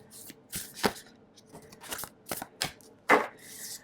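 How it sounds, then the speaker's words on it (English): Tarot cards being shuffled by hand in a series of quick riffling bursts separated by short pauses, close and fairly quiet with no talking. "I'm going to be shuffling and pulling cards on camera"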